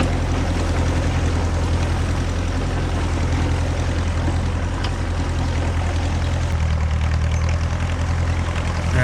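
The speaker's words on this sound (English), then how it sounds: "I love this little dozer." An antique Caterpillar D2 crawler dozer pushing a blade of dirt, its engine a steady, loud low rumble that runs unbroken throughout, with no voices.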